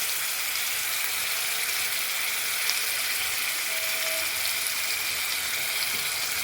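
Spice paste hits hot oil in a pan while a curry of tengra fish with pumpkin bori, beans and potato is being cooked, giving an even, continuous frying hiss at moderate loudness with no break.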